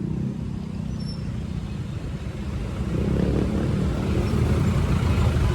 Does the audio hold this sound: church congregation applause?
no